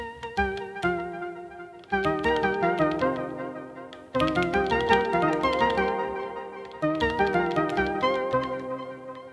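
Elektron Digitone synth preset Plug Wein plays sequenced plucky, bell-like notes in repeating phrases, fairly quiet with decaying tails and no voices.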